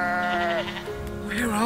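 Sheep bleat loudly and close in a farm setting, with two drawn-out wavering calls, one at the start and another near the end, and no speech over them.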